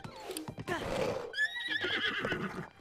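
Horse in Breath of the Wild gives a clear, wavering whinny amid hoof clops and snorts, fairly close and moderately loud.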